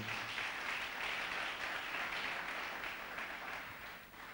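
A church congregation at a French-speaking worship gathering applauds the Lord with steady, dense clapping and cheering that fills the room and fades slightly toward the end.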